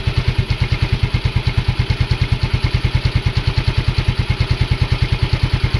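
A repaired Yamaha Mio Soul i 125 scooter engine runs steadily at idle, its close, loud, rapid even putter thumping along without a break and with no voices.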